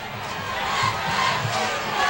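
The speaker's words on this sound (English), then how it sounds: "There's some of the Hampton crowd there, the Hampton crowd, Mike." Steady, dense roar from the Hampton crowd in the stands at a high school football game against Phoebus, with cheering swells rising over the din throughout.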